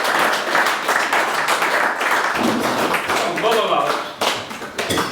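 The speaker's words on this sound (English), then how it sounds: "today's winner, a big round of applause please" At a winter fishing match, onlookers clap for the day's winner, a mixed spattering of hand claps and taps with someone speaking over the applause.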